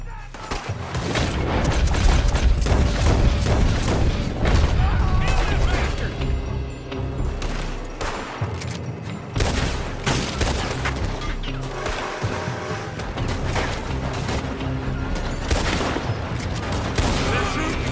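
Heavy gunfire in Red Dead Redemption 2 fills the scene with loud, overlapping volleys of rifle and pistol shots, booming impacts and crashes, with shouted voices breaking in amid the shooting.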